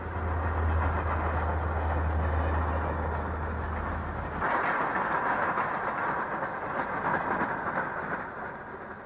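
Wabash Railroad train SC1 rumbles across a contemporary concrete bridge a mile out of Oakwood Yard, a steady loud rolling roar with a low drone that drops away midway, leaving broad wheel and track noise.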